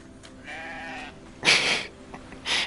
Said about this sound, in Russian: Майнкрафтовская овца также мекает.